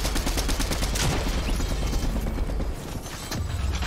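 Rapid bursts of video game gunfire crackle continuously through a firefight, dense and loud, with a brief lull near the end before shots resume.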